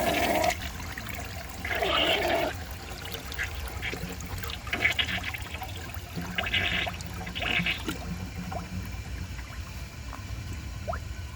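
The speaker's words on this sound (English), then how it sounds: "see how they flush on high tanks" A 1990 Peerless concealed jet toilet on a high tank flushes, with gushing water in several short bursts that give way to softer trickling and dripping.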